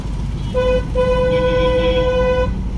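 A car horn honks during a driving lesson. There is one brief toot, then a longer sustained honk, loud and close over the low rumble of the engine.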